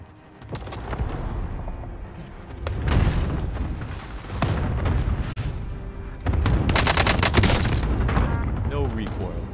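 Cluster strike explosions pound a Call of Duty: Warzone battlefield, several heavy booms and crackling blasts overlapping with gunfire, loud and dense throughout, with voices talking over the din.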